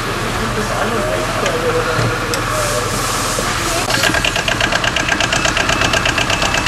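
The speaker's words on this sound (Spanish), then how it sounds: "Ahora vamos a oír el ruido del Kubota." A Kubota diesel engine runs steadily with a rapid knocking rattle that grows louder partway through, with faint voices in the background.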